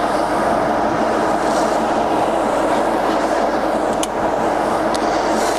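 A used Wroclaw TUR-50 lathe runs with its carriage feed engaged, giving a steady close mechanical drone and rumble with a faint click near the four-second mark.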